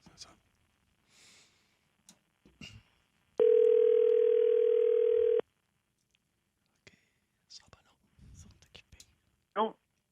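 A telephone dial tone sounds as a call is placed, a steady continuous tone lasting about two seconds, clear and close, between soft whispers, breaths and quiet handling noises.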